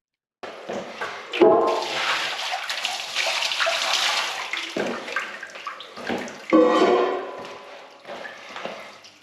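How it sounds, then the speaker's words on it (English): A bucket of water is thrown into urinals in a block with a sudden gushing splash, then draining and gurgling, followed by a second loud gush and more trickling, with no talking. "So let's now chuck a bucket of water in."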